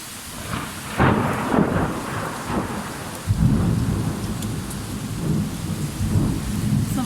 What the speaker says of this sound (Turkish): ve şimdi acayip fırtına, yağmur ama hava sıcak